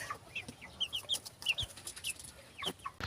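Rhode Island Red chickens on a poultry farm give repeated short clucks and chirping calls at an uneven rhythm, several birds at moderate distance over a low background hum of the coop.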